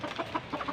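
A large chicken clucks in a short, soft series of quick, evenly spaced calls, fairly faint and with no speech.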